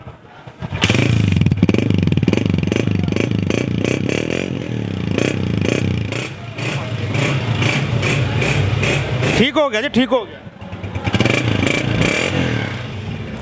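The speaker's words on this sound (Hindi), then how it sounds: "बाइक स्टार्ट खड़ी, होंडा स्टार्ट खड़ा है। दबंग साउंड, कड़क साउंड" A Honda 125 motorcycle engine starts and idles with a throbbing, pulsing rumble, revving at points, while someone speaks briefly over it.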